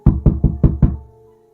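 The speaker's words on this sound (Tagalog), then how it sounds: "Mabilis kong pinagbuksan ng pintuan yung kumakatok" Five sharp knocks on a wooden door in a quick, even rhythm, loud and close, followed by a brief fading resonance and then quiet.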